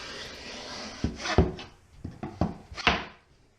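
A corner trowel scrapes up drywall tape in an inside wall corner, giving a few short close rubbing swipes and light knocks that grow briefly louder, then fade into quiet.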